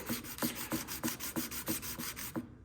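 A steel card scraper is rubbed flat back and forth on 400 grit abrasive to remove its old burr, making nine rhythmic rasping strokes about every third of a second, close and clear, stopping abruptly at the end.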